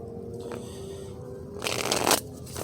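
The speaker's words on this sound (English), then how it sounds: "a few more shuffles" A tarot card deck is shuffled in a few quick riffling bursts, the longest near the end, close up and fairly soft over a steady low room hum, with no talking.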